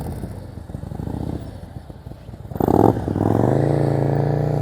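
A motorcycle is ridden at slow speed during advanced low-speed practice, its engine idling and chugging under light throttle before a short louder rev and then a steady, sustained engine drone close by.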